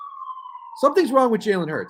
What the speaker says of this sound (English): Sorry about the sirens outside.